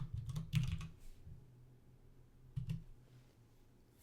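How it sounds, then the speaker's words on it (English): Soft computer keyboard typing comes in quick bursts of clicks separated by pauses, faint and close, with no one talking. "Andon is typing."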